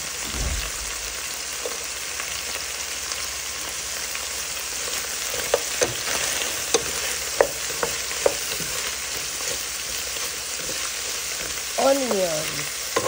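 Onion frying with pork in a pan, a loud continuous hiss and crackle with scattered stirring clicks and spatula scrapes, close and steady, with no talking.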